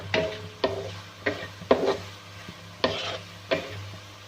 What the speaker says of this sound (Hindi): अब हम इसको अच्छी तरह मिक्स कर लेंगे।